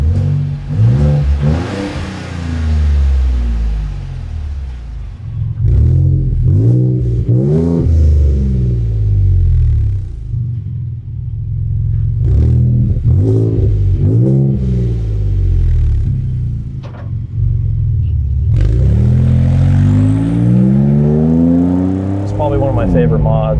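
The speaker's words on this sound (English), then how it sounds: "If you get on the truck, you know, the exhaust definitely comes alive" A Ford Raptor pickup's Stainless Works exhaust revs hard several times, rising and falling in loud, rumbling bursts with short idle gaps between pulls.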